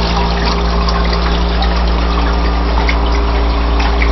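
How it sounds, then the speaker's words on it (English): Water spills steadily over the rim of a bucket back into a reservoir in a gold-panning setup, a loud, constant trickling wash with a pump hum underneath and no talking. "the water just overflowing the bucket back into the reservoir"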